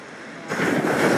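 Ocean waves breaking on an east-facing beach, a broad wash of surf that swells louder halfway through, heard alone and fairly close.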